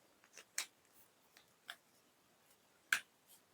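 A math expression is written out by hand, heard as faint, sparse taps and short scratches at irregular intervals, quiet and close, with no voices.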